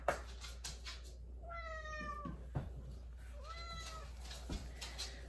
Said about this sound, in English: Okay, and there's the cat.